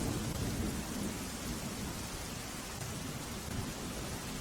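Heavy, steady downpour with rumbling thunder underneath, dense and continuous throughout at night over Mahisagar district, with no voices present.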